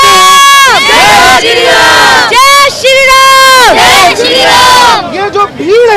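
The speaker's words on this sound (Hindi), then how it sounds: "ये जो भीड़ है, ये राजकुमार भाटिया के प्रेम में ये भीड़ है।" A large crowd at a BJP political rally in Adarsh Nagar, Delhi shouts and chants in loud, repeated bursts of many voices, close and dominant throughout.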